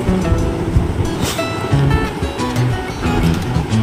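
Potatoes with jukti flowers, salt and a little turmeric frying under a lid in a covered pan, giving a steady, dense sizzle and hiss that runs unbroken throughout.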